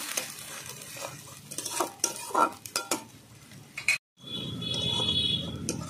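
Spices and vegetables stir-fried in a pan for a string bean and poppy seed curry: scraping spoon strokes and clinks against the pan in bursts, a short gap, then a steady close sizzle without talk.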